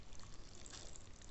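Fresh water poured into a cooking pot while making a sweet cluster-bean curry, a steady, close, gentle splashing pour that runs through without a break and without any voices.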